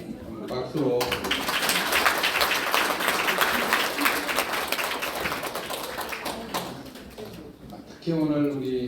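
An audience at a university guest lecture breaks into steady applause lasting several seconds, loud and dense, with a speaker's voice heard before and after.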